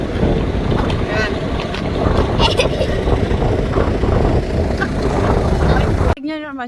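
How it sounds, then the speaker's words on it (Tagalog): Strong wind buffets a boat at sea, a loud continuous roar of gusts and microphone rumble over surf and water noise, broken by a brief tonal sound at the end. "Ang lakas ng hangin"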